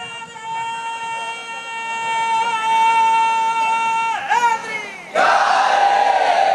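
At an Eid Milad-un-Nabi gathering, a crowd roars back in unison to the Takbir slogan call, a loud sustained chanted cry with strong tonal harmonics, pausing briefly before a second, noisier massed shout bursts in.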